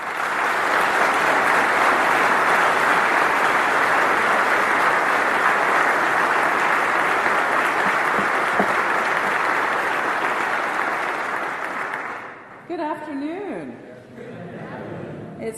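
Loud, sustained applause from a large seminary convocation audience welcoming an author and religion scholar, a dense wash of clapping lasting about twelve seconds before it thins out and a voice begins speaking.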